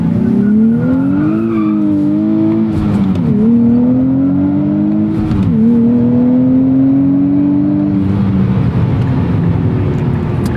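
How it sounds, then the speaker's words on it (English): A 2023 Nissan Z engine revs hard while driving, loud and close, its pitch climbing through the gears with brief dips at each shift and a steady rising whine between them, with no talk over it. "But this is still a fun engine to ring out."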